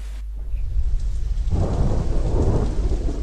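Steady rain pours down in the video game Deadlight, joined by a deep rumble of thunder that swells midway and keeps rolling to the end.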